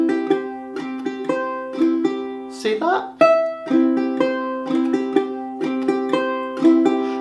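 A ukulele played in traditional clawhammer style gives a bright, evenly paced series of plucked and brushed strums. A brief pause with a short spoken remark breaks the rhythm before the pattern resumes.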